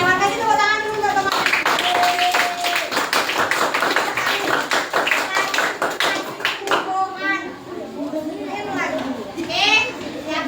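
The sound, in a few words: children clapping hands in class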